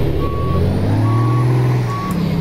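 Repeated electronic reversing beeps from a truck in American Truck Simulator sound at a steady rhythm over a loud, droning truck engine.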